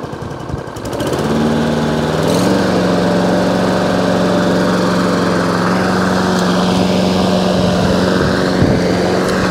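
Hayter 48 lawn mower engine running steadily at idle with a drive belt squealing, a loud continuous mechanical drone with a sustained high whine over it, close by and without speech.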